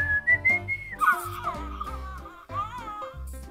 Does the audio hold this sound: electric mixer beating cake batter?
no